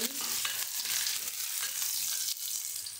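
Crushed garlic, green chili and ginger with cumin seeds roast in a hot pan, giving a steady, close sizzling hiss with faint scraping and stirring and no voices.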